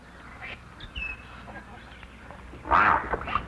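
Great egrets call at their nests in a swamp rookery in the Atchafalaya River Basin, with harsh croaks and squawks at moderate distance, one loud raspy outburst near the end, over a quiet background of other bird sounds.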